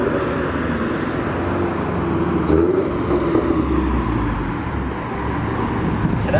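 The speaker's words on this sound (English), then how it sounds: "Today we're making my car not sound shit because all the goodness that goes in a GT86 Boxer when you put UELs on it comes out in badness." A Toyota GT86 with a boxer engine and UEL headers rumbles at a steady, loud drone throughout, with no speech over it.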